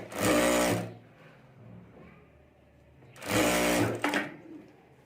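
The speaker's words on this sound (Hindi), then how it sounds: "इसको हमें यहाँ इस तरह से एक बार मोड़कर ऊपर सिलाई कर देनी है।" Sewing machine stitching a folded fabric strip for a handmade bag in two close, loud bursts of rapid stitching, each about a second long, with a quiet pause between them and no talk.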